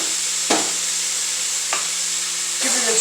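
Ground beef fries in a pan with a steady, close sizzle, broken by three scraping stirs spaced roughly a second apart.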